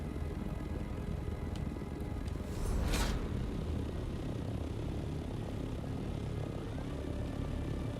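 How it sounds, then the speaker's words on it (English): Helicopter rotor from a video game chopping steadily with a glitching sound effect, a continuous loud drone with a brief swelling burst near the middle, no talk. "The sound effects is glitching a bit. It sounds like the chopper is still flapping its wings"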